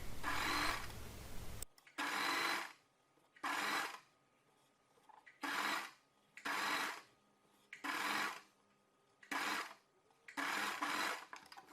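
A sewing machine runs a seam on fabric in repeated bursts, about seven short runs of steady whirring stitching separated by pauses, close and fairly quiet.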